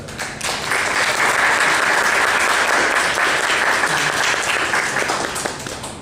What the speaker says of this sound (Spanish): Vamos a darle un fuerte aplauso a nuestros ponentes que nos acompañan en esta tarde.